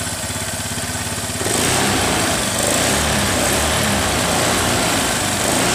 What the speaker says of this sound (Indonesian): Ya ini motor sudah hidup lagi